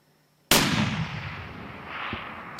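A rifle fires once during an elk hunt in Arizona, a sharp, loud crack that rolls off into a long echo, followed by a faint second thump a moment later.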